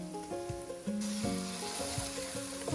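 Minced garlic and onions sizzle in a hot pan, a steady broadband frying hiss that jumps louder about a third of the way through, with background music tones throughout and no talking.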